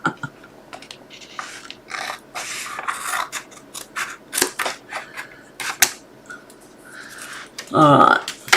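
Scissors snip through paper for a flat album book, a series of close, crisp cutting strokes in irregular bursts with rustling handling of the sheet and a louder crunch near the end.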